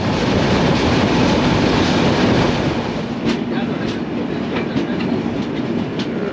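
The Avadh Assam Express runs on rails with a steady loud roar of wheels and carriage noise, faint rhythmic clicks over the track joints, heard from inside the train.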